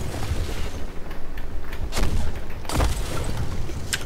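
Ship cannons boom in Sea of Thieves during a naval battle, heavy booms and thuds rolling over a noisy sea and wind background, several distinct blasts spaced a second or so apart.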